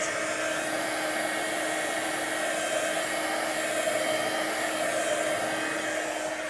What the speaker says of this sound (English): Yes, heat gun magic.